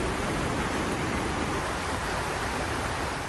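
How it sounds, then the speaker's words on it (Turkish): A heavy downpour with strong wind during a supercell storm in Istanbul, a dense, continuous roar of broadband noise that stays loud and even throughout with no voices. "Hem şiddetli bir rüzgar var hem de sağanak yağış."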